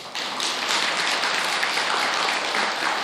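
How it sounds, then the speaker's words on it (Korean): A temple congregation applauds its choir during a Buddhist service, a dense burst of clapping that starts suddenly and stays even and full for a few seconds. "합창단한테는 2번 박수 써주세요"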